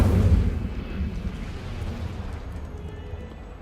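Incendio fire spell cast in Hogwarts Legacy: a loud, deep fiery burst at the start that rolls into a fading low rumble and crackle, with no voices over it.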